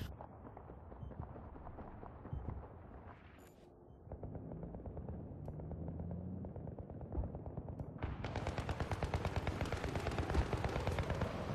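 Battlefield 3 gunfire sounds as rapid, repeated automatic shots, first lighter and intermittent. It then becomes a dense, louder sustained burst in the final seconds, alongside rumbling game ambience.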